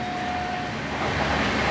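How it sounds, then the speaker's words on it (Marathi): A train at a railway station in Akola, India, gives off a steady, fairly loud broadband rumble that grows slightly stronger toward the end, with no voices. "स्टेशनवर जेव्हा मी पोहोचलो त्यावेळेस मला ही ट्रेन मिळाली."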